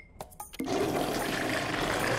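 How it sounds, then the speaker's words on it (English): A toilet flushes in a cartoon, starting after a few soft clicks with a sudden loud, steady rushing roar of water that fills the rest of the moment, with no talk. "It's just the toilet flushing."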